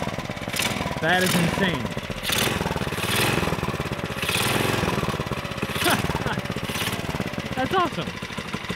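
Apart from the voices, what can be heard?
Tecumseh small engine running with a Mikuni carburetor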